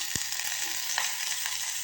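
Chillies sizzle in oil with a bright, continuous hiss, broken by a low thump and a couple of light clicks early on.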